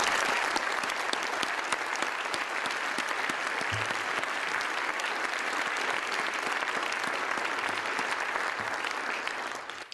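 Sustained applause from an audience in the Montana Theater at a university symposium on higher education, steady and dense for the full length, with a few low thumps beneath.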